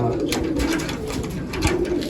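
Large pigeons coo continuously up close, a low rolling burble that swells and dips over a constant ambient hum.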